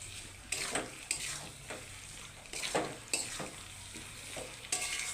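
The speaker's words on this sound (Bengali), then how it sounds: "এবার এইটাকে ভালো করে কষিয়ে নেবেন" Yogurt jackfruit curry sizzles and fries in a pan while a spoon stirs it in repeated scraping strokes, close and fairly quiet, with no talk.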